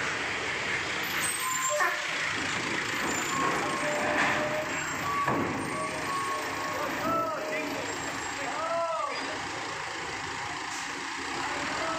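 A Ranau bus with air brakes at Merak harbour gives off a steady, close engine rumble, broken by short air-brake hisses and chirps and some beeping, with faint voices in the background.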